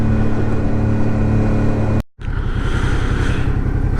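A motorcycle ride on the Peljesac peninsula in Croatia, with a steady engine hum and wind rush, a sudden cut, then the engine droning on with rougher wind noise.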